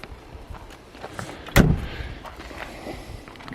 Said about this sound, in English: make sure that the door locks are open and closing without any problem